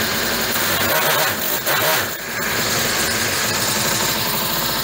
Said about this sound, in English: now we're going to let her sit and idle for a couple of minutes and see what happens.